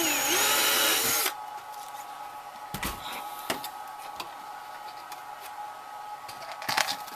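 A power drill whines briefly and loudly while boring bolt holes for the sliding canopy rail of a Ziroli Texan model aircraft, then stops, leaving a quiet room with a few faint clicks and taps.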